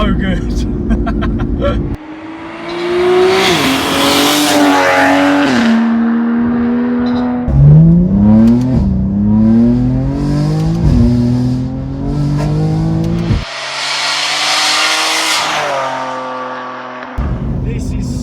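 A 700 BHP BMW G87 M2 with an external wastegate turbo accelerates hard through several gears, its loud engine note rising and dropping with each shift and turbo whoosh. The car is heard from inside the cabin.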